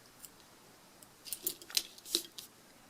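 Scissors snipping a short crochet yarn tail, a few quiet, crisp clicks close by in an otherwise hushed room.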